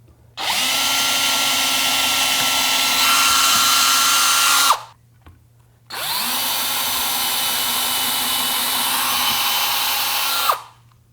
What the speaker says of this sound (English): I'm just going to be careful not to drill all the way through